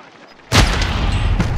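In the FTW Mini Royal game, a single loud gunshot bursts out of near silence, followed by sustained booming fire and rumble that keeps going to the end.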